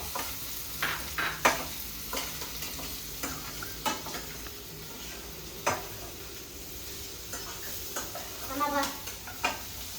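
An egg fries in a pan for fried rice, giving a faint steady sizzle broken by sharp scraping and tapping strokes of a spatula against the pan.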